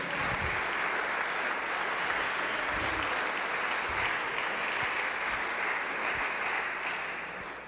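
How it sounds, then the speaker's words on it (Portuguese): A church congregation applauds steadily during a worship service, a dense, continuous wash of clapping at close range that keeps an even level before tapering slightly at the end. "Pode aplaudir e glorificar o Senhor."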